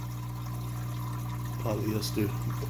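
Water trickles steadily through an African cichlid aquarium sump filter, passing over sponge, tray and polyester media, with a constant low pump hum beneath and a brief voice near the end.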